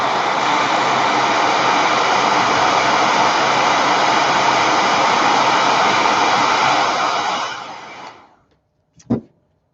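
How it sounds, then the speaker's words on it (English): A heat tool blows steadily and loudly to heat-set a stamped card, a constant whooshing roar for about eight seconds that fades out, followed by a brief click. "let me heat set it again for a quick second."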